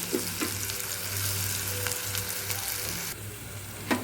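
Ginger garlic paste sizzles and fries in a pan with softened onion and tomato for a mushroom gravy, a steady close hiss with faint stirring scrapes and no voices.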